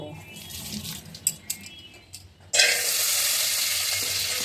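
Cashews fry in a pan over low heat, a few soft clinks and bubbling at first, then a steady loud sizzle bursts in partway and continues to the end.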